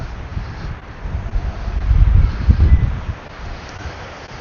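Strong wind buffets the microphone at the Grand Canyon, a loud low rumbling roar that swells in gusts toward the middle and then eases, with no voices.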